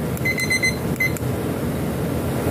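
A kitchen timer goes off while spicy squid cooks: a quick run of bright, rapid beeps, a short pause, one more burst, then it falls silent over low kitchen background noise.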